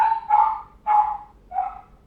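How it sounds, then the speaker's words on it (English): Three loud, close dog barks in an uneven rhythm, each a short sharp woof with a brief pause between, standing alone against near silence. "sorry about the dogs."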